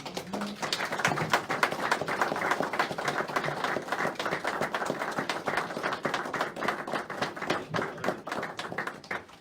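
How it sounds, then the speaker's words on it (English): A standing audience applauds as an entrepreneur and speaker named Bill Steinkirchner is welcomed to the front. The clapping is dense and steady, with a few murmured voices beneath it. "if you'd stand and give him a round of applause"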